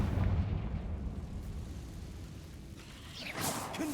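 A Confringo blasting curse in Hogwarts Legacy goes off, a faint rumbling burst that builds into a brief whooshing blast near the end, with no talk.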